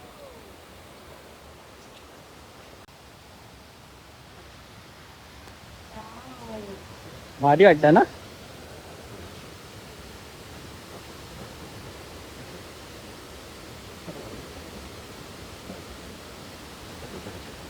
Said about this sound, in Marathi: समोर दिसतो मित्रांनो धबधबा